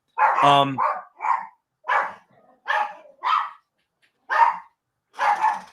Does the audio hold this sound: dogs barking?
yes